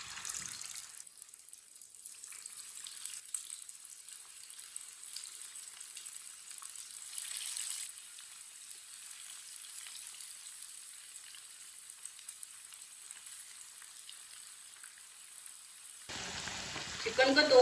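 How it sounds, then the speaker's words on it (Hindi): Chicken frying in well-heated oil for layered biryani, a steady soft sizzle running continuously and fairly faint, with a brief louder clatter near the end. "ऑयल हमारा अच्छी तरह गर्म हो चुका है। अब इसमें चिकन डाल लेंगे फ्राई के लिए।"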